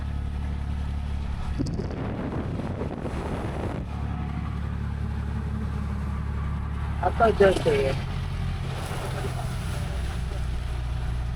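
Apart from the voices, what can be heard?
auto rickshaw driving on wet road after rain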